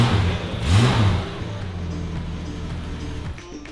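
An LS V8 engine fitted in an HQ Holden revs through a large exhaust, one quick rising blip and fall near the start, then a steady idle rumble with a faint whir.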